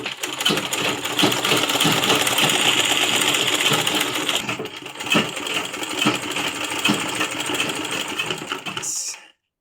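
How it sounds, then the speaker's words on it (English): A sewing machine that keeps cutting its thread runs steadily and loudly up close, its rapid mechanical whirring dropping briefly midway, then resuming before a sudden stop. "your machine will just be cutting the thread like this one here"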